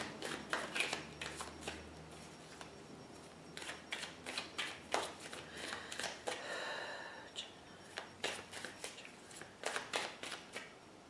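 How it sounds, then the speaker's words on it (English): Tarot cards riffled and shuffled in quick bursts, crisp slapping flutters repeating close up at a quiet level, with brief pauses between rounds. "I do feel like actually shuffling just a hair more"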